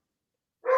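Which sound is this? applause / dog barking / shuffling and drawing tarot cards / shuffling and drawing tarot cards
dog barking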